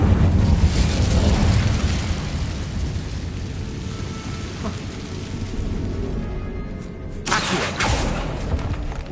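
An Incendio fire spell is cast in the video game Hogwarts Legacy, a broad roaring whoosh of flame that holds steady for several seconds and then flares again near the end, loud and close with no talking.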